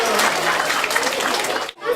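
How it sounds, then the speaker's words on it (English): A library audience applauds a performing parrot with dense, sustained clapping that stays loud and steady, then cuts off abruptly near the end. "Hey, let's give our hero a round of applause."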